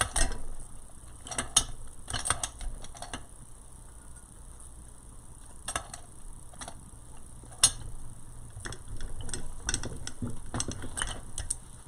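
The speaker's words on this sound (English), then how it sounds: "I'm going to get my steel pick machine" A steel floral pick machine clamps a pick onto a stem, giving clustered mechanical clicks and ratcheting snaps in several bursts over faint background noise, with no talk.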